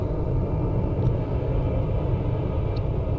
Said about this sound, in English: That would be the storm.